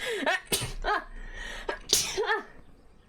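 A person sneezes sharply close to the microphone, one burst after a brief intake, followed by a second sneeze, with quick breaths and vocal sounds around them.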